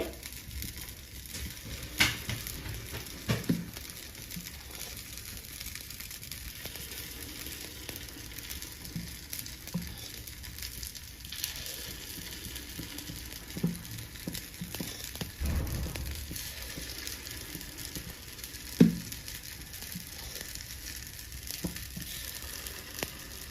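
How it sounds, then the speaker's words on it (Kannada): Paddu batter sizzles softly and steadily in a hot appe pan over a low flame, with faint scrapes and light taps as more batter is added. "ನಾನು ಈಗಲೂ ತವಾ ಫ್ಲೇಮ್ ಅನ್ನ ಸಿಮ್ಮಲ್ಲೇ ಇಟ್ಕೊಂಡು ಇದಕ್ಕೆ ಹಿಟ್ಟನ್ನ ಸೇರಿಸ್ತಾ ಇದ್ದೀನಿ"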